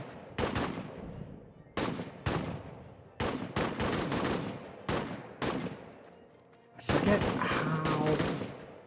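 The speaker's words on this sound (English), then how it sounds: "Let's have these guys fire back at the French troop." Troops firing rifles in the World War I trench game All Quiet in the Trenches: loud bursts of overlapping shots in clusters, with short gaps between volleys and a dense final barrage.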